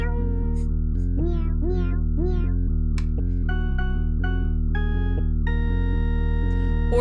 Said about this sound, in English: What if we add actual cat sounds?